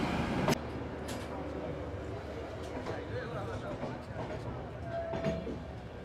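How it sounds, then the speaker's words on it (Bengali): The Sealdah Ajmer Superfast train pulls out of a station, a steady rumbling roll of coaches with faint clacking and a brief squeal, while a voice talks over it. "শিয়ালদা আজমির সুপারফাস্ট বেরিয়ে গেল।"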